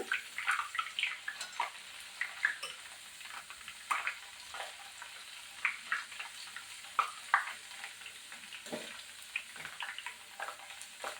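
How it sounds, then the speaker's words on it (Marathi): Potato chiwda frying in oil on low gas, a soft steady sizzle with scattered bubbling pops and the occasional stir, fairly quiet and close, no talk. "हलक्या गॅसवर तळून घेते मी"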